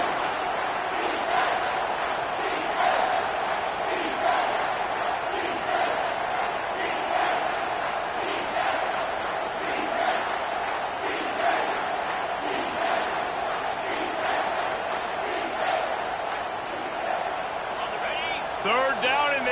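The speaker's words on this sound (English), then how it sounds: "this crowd is tearing the lid off this place" A packed stadium crowd in the college football video game NCAAF 25 roars without a break on a third down, a dense and loud wall of cheering voices that barely rises or falls.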